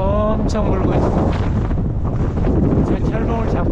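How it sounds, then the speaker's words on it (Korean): Strong gusting wind atop Ulsanbawi rock on Seoraksan mountain roars and buffets a shaking GoPro microphone nonstop, a loud rumbling blast with a voice faintly breaking through at times. "지금 바람이 엄청 불고 있습니다."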